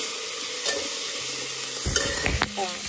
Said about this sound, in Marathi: कुकरमध्ये भाज्या परतते मी